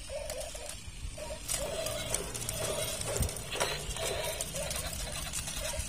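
A toy pony making horse sounds, with rhythmic clip-clop hoofbeats repeating at moderate volume over a faint background hiss, and no talking.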